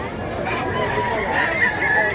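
Several kinds of chickens at a market give honking, clucking calls over a busy background murmur, with faint voices mixed in.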